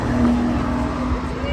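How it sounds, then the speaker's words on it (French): An Aston Martin sports car approaches and drives past on a city street, its engine tone steady and then rising, with faint voices murmuring in the background. "qui arrive vers nous, une Aston Martin rapide"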